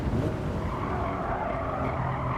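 A race car in Gran Turismo 7 brakes hard after a jump on the Nordschleife, its engine roaring steadily while the tires squeal and skid continuously at close range.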